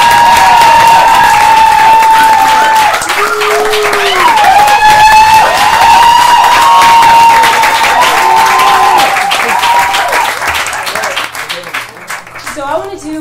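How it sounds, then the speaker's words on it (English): At a live spoken-word feature performance, the crowd breaks into loud clapping and cheering, with whoops and shouted voices rising above the clapping. The noise thins and fades near the end. "let's give a round of applause for Alu and M.Sham."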